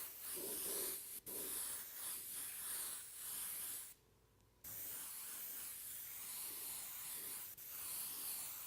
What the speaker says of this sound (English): I'm going to kind of mist this blue over the silver that's left.